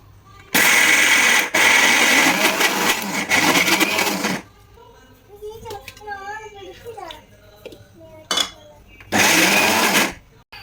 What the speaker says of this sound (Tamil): இப்போ இதை வந்து நல்லா மிக்சியில் வந்து ஃபைன் பேஸ்ட்டாக வந்து அரைச்சிக்கலாம்